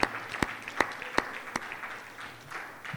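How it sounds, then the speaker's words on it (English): A small audience at a close-out ceremony gives a round of applause. Several sharp, distinct claps land about every 0.4 seconds over a quiet room, then fade into faint background. "Please help me give them a round of applause"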